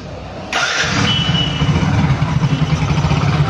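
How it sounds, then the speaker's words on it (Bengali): A 2021 Bajaj CT 100 motorcycle engine starts and then runs at free accelerator, a steady close puttering exhaust note through the silencer with slight rhythmic pulsing. "এটা কিন্তু ফ্রি অ্যাক্সেলেটারের ইঞ্জিনের সাউন্ড, ফ্রি অ্যাক্সেলেটারের সাইলেন্সারের"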